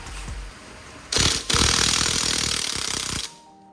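Lug nuts come off a car wheel during a front brake pad and rotor job, a loud rattling power-tool burst that briefly pauses, then runs steadily for about two seconds before stopping.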